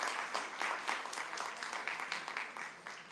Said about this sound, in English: Well, let's give a round of applause one more time.